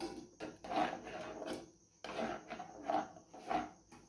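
Carrot halwa with sugar is stirred in a pan, giving repeated rasping scrapes in a rhythmic back-and-forth with short pauses between strokes.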